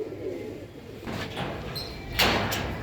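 Punjabi and Andhra breed pigeons in a loft give soft, low coos at the start, followed by scattered rustles and a couple of sharper bumps, all fairly quiet and close.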